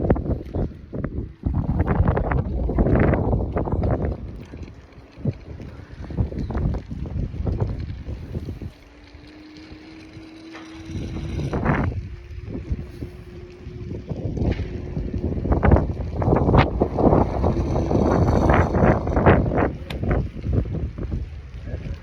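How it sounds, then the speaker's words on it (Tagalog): Strong wind buffets the microphone in heavy, uneven gusts, loud booming rumbles that surge and ease over a long stretch. "Lakas ng hangin guys."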